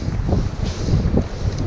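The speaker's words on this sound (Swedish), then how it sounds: "Blåser bra." Steady wind blows across a microphone on the south Swedish coast during sea trout fishing, a continuous loud rush with low gusty rumble and no pauses.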